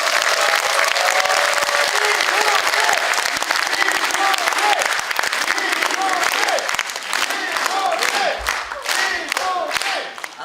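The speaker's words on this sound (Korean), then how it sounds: "격렬한 지지를 보내는 의미에서 박수를 보내드리고" Vigorous applause and cheering from a large crowd gathered in a National Assembly conference hall for a care-worker policy forum, sustained loud clapping with shouts mixed in that thins toward the end.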